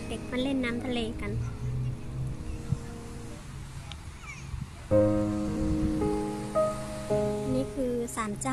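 Sea waves wash onto the beach at Uradome in Tottori as a steady, broad surf hiss, mostly sitting under voices and tonal sound, and briefly clearer in the middle.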